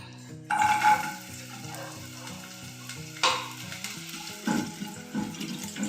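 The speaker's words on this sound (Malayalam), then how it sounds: "ഇനി വെളിച്ചെണ്ണയാണ് ഒഴിക്കുന്നത്. ഇനി നമുക്ക് തേങ്ങാക്കൊത്ത് മൂപ്പിച്ചെടുക്കാം." Coconut pieces frying in hot coconut oil in a pan for a Kerala-style beef roast, a steady close sizzle broken by a few sharper bursts and clinks.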